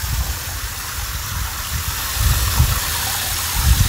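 Water rushing out and splashing into garden soil while planting peas, a steady gushing flow with low bubbling surges growing a little heavier toward the end, no talk.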